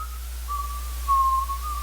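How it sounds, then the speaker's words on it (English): A steady, clear whistled tone holding one pitch, slightly rising and louder near the middle, sustained for about two seconds over a low background hum. "At that moment, Timothy heard a familiar whistling coming from outside"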